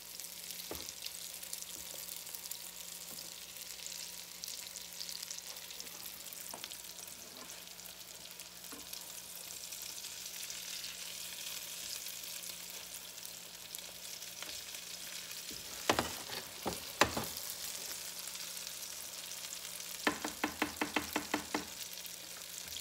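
Potato cakes fry in a pan with a continuous soft sizzle, joined late by a few brief clatters and a quick run of light taps, with no voices.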